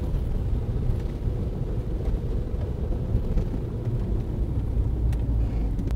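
Inside a car with a manual transmission in heavy stop-and-go traffic, a steady, loud low rumble of engine and road noise carries on without a break, with no talking.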